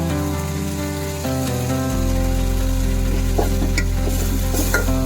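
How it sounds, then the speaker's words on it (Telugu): Tomato pieces with garam masala fry in a pan for Telangana-style chicken curry, giving a loud, steady sizzle with stirring scrapes throughout and no talking. "ఇవి వేసుకొని కొంచెం బ్రౌన్ కలర్ వచ్చే వరకు వేయించుకోవాలి"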